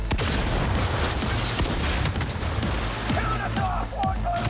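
Rebecca's shotgun blasting in Cyberpunk 2077 during a firefight with Maelstrom gang members, heavy booming shots repeating amid dense gunfire and crashing clutter, loud and close with a constant din of combat.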